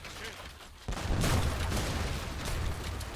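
Massed unit fire in a strategy game battle, a sudden burst of rumbling gunfire and booms that rolls on steadily, fairly loud with no clear voice over it.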